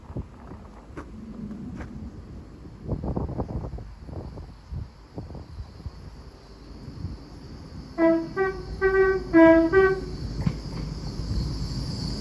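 Great Western Railway Class 800 unit 800-031 arriving at Didcot Parkway sounds a loud multi-note horn sequence of short and longer tones, heard after a stretch of quieter rumbling, clunks and insect-like background hiss.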